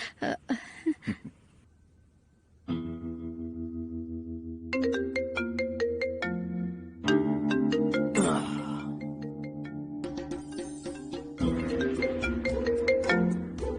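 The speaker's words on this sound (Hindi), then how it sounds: "फोन बज रहा है।" A melodic phone ringtone plays loudly and repeatedly, its electronic tune cycling through bright chiming notes after a few brief sounds at the start.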